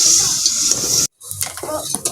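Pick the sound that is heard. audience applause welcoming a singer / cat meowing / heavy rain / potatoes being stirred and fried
potatoes being stirred and fried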